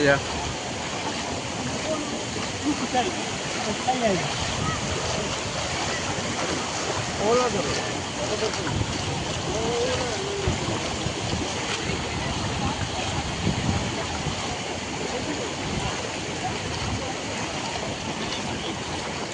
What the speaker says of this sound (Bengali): ওই দেখো জল কিলা নামের, কত স্পিডে জল নামের।